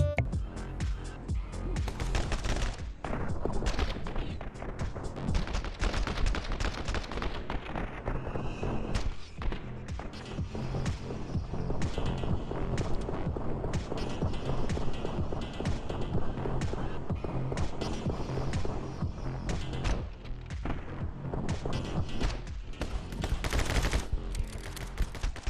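Rapid, dense gunfire from the action shooter game My Friend Pedro fills the whole stretch, bursts of shots layered over a steady loud game soundtrack with thuds and booms mixed in.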